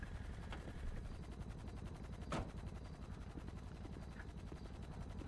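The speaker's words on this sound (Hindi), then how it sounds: "ऊपर हेलीकॉप्टर घूम रहा है" A helicopter circles overhead in GTA V, its steady, pulsing rotor chop filling the background throughout, broken by one sharp crack partway through.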